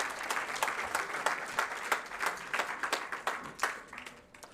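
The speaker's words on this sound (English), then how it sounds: "A big round of applause for University of Venda." An audience at a university research plan launch claps for several seconds, a moderate steady patter of many hands that tapers off at the end.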